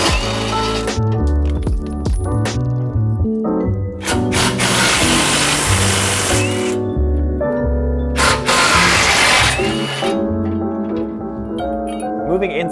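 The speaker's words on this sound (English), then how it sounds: "you're gonna need a 15 millimeter socket. You're just gonna come underneath here and undo these two screws holding it in" A power tool fitted with a 15 mm socket removes the tow hook screws on a 2018-2020 Ford F150, giving two short loud bursts with metallic clinks over a tonal musical background.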